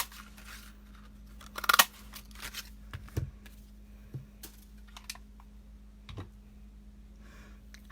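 A handful of sharp, crisp clicks and crunches, spaced out over several seconds, as a leaf-shaped paper punch cuts shapes from card stock for handmade flower cards; close and quiet with no talk.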